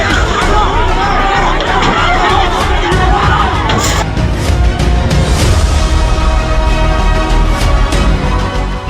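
Loud, dense hubbub of a crowd of protesting women attacking a female police officer on a road in Chhattisgarh, with shouting and overlapping voices throughout and sharp cries rising over the roar.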